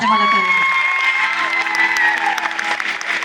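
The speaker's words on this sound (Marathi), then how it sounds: "बायका किती बसलाय, टाळ्या वाजवा बघू म्हणजे मला कळेल." Women in an audience at a singing and comedy show clapping together, with cheers and shouts over the applause, while music plays underneath.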